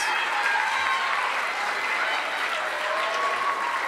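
Steady applause from a crowd at a junior high school awards ceremony, dense continuous clapping filling the hall at even volume throughout, with a few faint voices mixed in.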